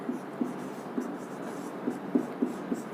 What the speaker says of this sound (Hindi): यहाँ लिखती हूं मैं इसको